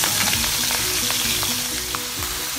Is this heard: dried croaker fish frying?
yes